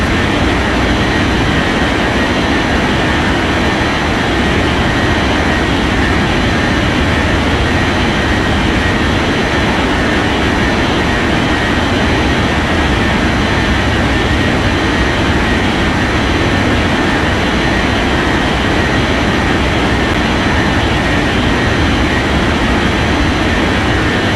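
An airplane taking off in the video game Unmatched Air Traffic Control, a loud, continuous broadband jet engine roar that stays steady and dense throughout, with no talking.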